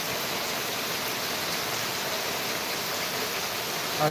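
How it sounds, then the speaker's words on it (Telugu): Heavy rain pouring down in Dharmavaram, a dense, steady broadband hiss of falling water that stays loud and unbroken throughout, with no voices. "భారీగా వస్తుంది వాన"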